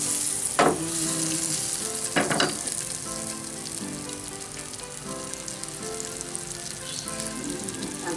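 Martabak telur sizzles in butter in a pan over a low flame, a continuous close frying crackle broken by a couple of sharp clatters from stirring or handling near the start.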